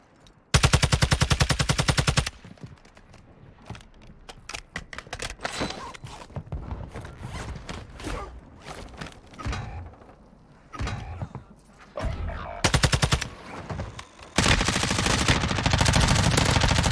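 Sustained automatic gunfire in Warzone 2 from a Lachmann Sub, loud rapid bursts at the start and end with scattered shots, clicks and mechanical handling sounds between them.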